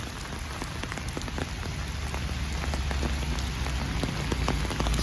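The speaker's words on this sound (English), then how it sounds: "I don't know if you can even hear me because it's raining" Steady rain pattering on surfaces nearby in London, with distinct droplet taps over a constant wash, growing slightly louder toward the end.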